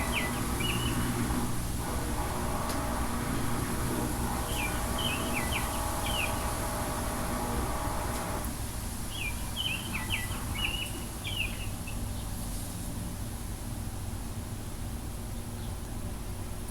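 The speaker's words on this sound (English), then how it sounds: "Yeah, the birds are loud" Birds chirp in short bursts outdoors, with two clusters of calls standing out over a steady hiss of ambient noise and a low rumble.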